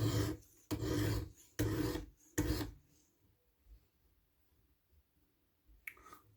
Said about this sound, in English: I'm going to do one stroke on each side for a final little bit of deburring.